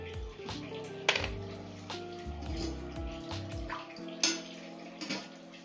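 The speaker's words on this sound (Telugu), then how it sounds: "ఒక టీ గ్లాసు, చిన్న టీ తాగుతాం కదండి, కొంచెం నీళ్లు పోయిందండి చాలు సగానికి" Water pours into a metal pan of jaggery and sugar for syrup, with a splashing stream, clinks and knocks of the vessel, and a few sharp metallic taps in a quiet kitchen.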